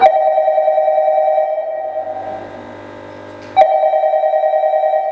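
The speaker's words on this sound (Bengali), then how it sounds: "এই ফোনটা কি আমি ধরবো?" A telephone rings in a Bengali radio drama scene, a loud repeating electronic trill that breaks off briefly into a quieter tone before ringing again, no voices over it.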